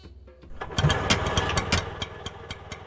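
An auto-rickshaw engine cranks and catches, settling into a rough, rapid chugging idle with loud, irregular sputtering pulses close by, with no talking over it.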